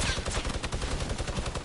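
MG42 machine gun firing in a first-person shooter game, a rapid continuous burst of closely spaced shots at steady high rate, fairly loud throughout, with no talking.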